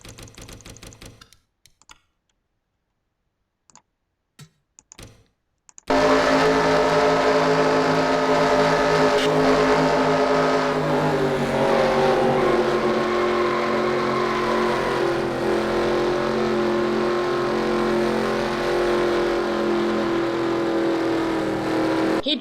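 Racing truck engine heard from onboard in a sim racing truck series event, roaring loudly and steadily at high revs with shifting pitch after a few seconds of near silence and sparse clicks.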